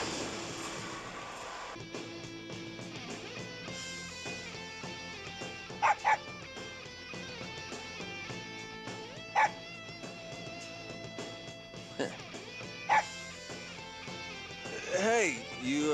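A dog in the Persona Q video game barks and whimpers in short yips over steady background music, with a character voice speaking near the end.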